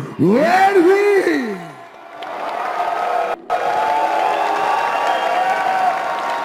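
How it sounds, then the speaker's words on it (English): Crowd applause for a boxer being introduced at a boxing match, a steady wash of clapping and cheering that swells after a brief voice and carries on loudly, with one short dropout. "Ladies and gentlemen, a round of applause for Karim Guerfi."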